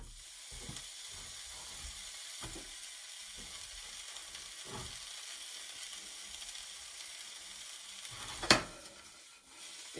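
Onions dry-frying without oil in a hot pan give a faint, steady sizzle, broken by a few soft stirring scrapes and one sharp clatter near the end.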